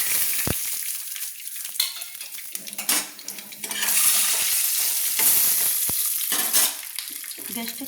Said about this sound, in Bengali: দেখুন আমি বাদাম ভেজে নিচ্ছি